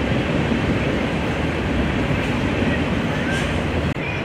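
A train rumbles past behind the warthog habitat at Potawatomi Zoo in South Bend, Indiana, a loud, continuous broadband roar of rolling wheels and cars throughout, with no pauses.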